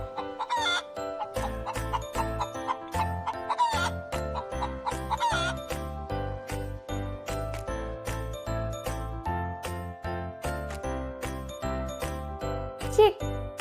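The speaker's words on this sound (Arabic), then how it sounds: "دجاجة." A hen clucks in short repeated bursts over a rhythmic, jingling musical backing, fairly close and steady throughout.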